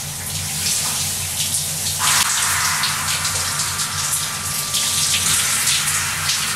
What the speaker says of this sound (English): let's just turn on the shower